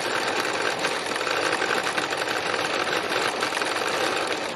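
A sewing machine stitches a textile landscape, a steady, close whirring buzz that runs continuously without pause.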